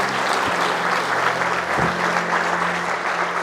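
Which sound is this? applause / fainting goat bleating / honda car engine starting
applause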